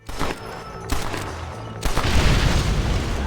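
TNT detonates in Red Dead Redemption: a series of heavy booms and crackling blasts, the last one biggest, with a dense rumbling debris roar that stays loud to the end.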